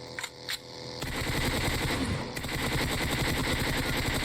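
Dense automatic gunfire in the PUBG Mobile video game, a loud, continuous rattling burst that starts after a few separate shots and keeps going to the end.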